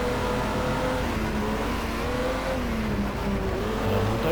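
A 4.2 litre car engine in the racing game GT Legends, a steady, loud droning hum with shifting pitch as the car runs at speed, heard alone.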